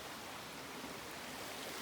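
Creek water and waterfalls on the Ka'au Crater hiking trail in Hawaii rush in a steady, dense wash of noise, with no voices over it.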